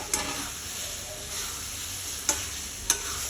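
Eggs frying in a pan of spicy masala for an egg curry give a steady close sizzle, broken by a few sharp scrapes from stirring.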